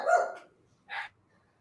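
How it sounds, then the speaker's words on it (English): Dogs bark in the background, two separate sharp barks about a second apart, one longer and one short, with no talking in between. "with the dogs in the background"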